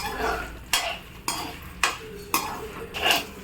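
Toor dal and red chillies dry-roasting in a pan are stirred with a spoon, giving about five sharp, regular scraping strokes spaced roughly half a second apart, close and clear, with a faint sizzle between strokes.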